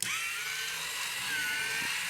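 A motorized drill on a Transformers Zone Big Powered toy base whirs steadily after switching on, a thin high-pitched motor whine running continuously at close range with no talking.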